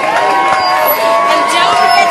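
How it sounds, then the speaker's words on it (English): A crowd at a LEGO League event cheers and claps, a loud dense wash of voices and applause close by, with whoops rising over the babble throughout. "Can we get a round of applause?"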